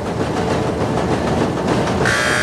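Newspaper printing presses run in a press room with a loud, continuous mechanical roar and rhythmic clatter, and a higher whine rises near the end.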